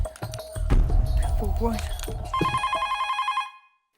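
A telephone at home rings in the background under talk and movement, then its repeated electronic bell pattern plays clearly alone for about a second before stopping.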